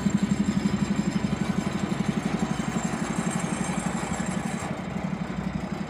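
A MAN HX military truck's diesel engine idles steadily nearby, a low throbbing rumble with an even, rapid pulse that runs unchanged throughout with no one speaking.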